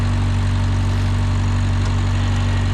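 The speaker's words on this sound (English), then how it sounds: "The skid steer does run a whole lot better now since I put that replacement engine in." Skid steer with a replacement engine idling in the snow, a loud, steady low-pitched drone with an even hum that stays close and unchanging, no talk.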